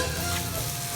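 Ground spices (chili, coriander, turmeric, garam masala) stirred through oil in a pan, a continuous close sizzle with soft scraping of the spoon, no voices.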